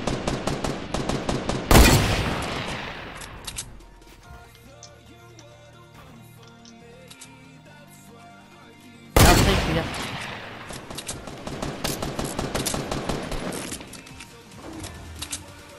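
Gunfire in the video game Fortnite: two loud bursts of rapid shots, each followed by a scattered run of further shots and impacts. The first burst is separated from the second by a quieter stretch with people talking.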